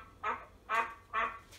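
A person imitates a duck with three loud, evenly spaced quacks, each short and nasal, in a room during a toddler party game.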